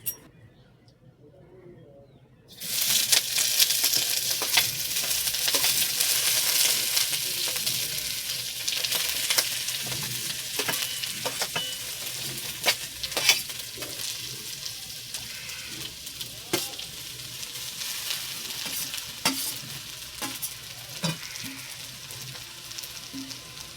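Loud, steady sizzling of chicken egg chow mein noodles being stir-fried in a hot pan, with scraping and clattering of utensils, after a brief quiet start.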